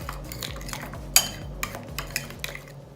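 Spoon stirring Greek yogurt and mayonnaise together in a bowl for a tuna salad dressing, a series of light clinks and scraping taps at an uneven rhythm, fairly quiet and close.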